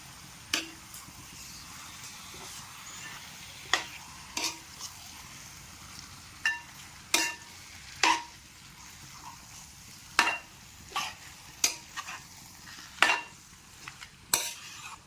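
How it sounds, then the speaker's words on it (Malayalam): Marinated chicken being stirred in a wide uruli pot, with a spoon scraping and knocking against the metal in a quiet, irregular series of close, sharp clinks over a soft background. "ഇനി ഇതെല്ലാം കൂടി ഒന്ന് മിക്സ് ആക്കാം."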